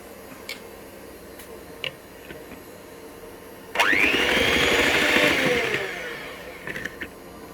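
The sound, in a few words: beating butter, orange and lemon zest and sugar with mixer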